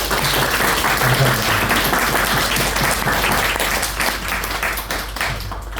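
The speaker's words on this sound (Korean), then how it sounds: "우리 와주셔서 감사하다고 한번 박수 한번." Steady, dense applause from a large church congregation fills the space, many hands clapping continuously without pause.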